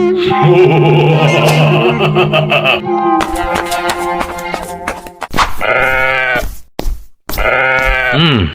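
A sheep being prepared as an Eid al-Adha sacrifice bleats loudly and repeatedly up close, long wavering cries separated by short gaps, with other animal calls overlapping early on.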